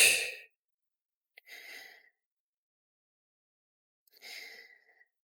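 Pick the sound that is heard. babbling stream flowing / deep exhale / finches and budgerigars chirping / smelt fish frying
deep exhale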